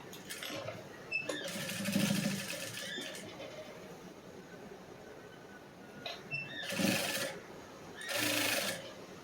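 Sewing machine stitching folded lining on a blouse, several short buzzing bursts of stitching separated by quieter pauses, with no voices.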